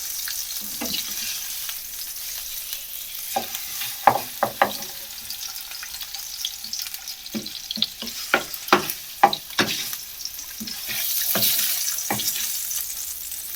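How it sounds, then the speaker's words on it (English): Smoked haddock sears in a hot pan with a steady sizzle, broken by repeated sharp scrapes and stirring clatters of a utensil against the pan. "Just going to sear the fish around the edges"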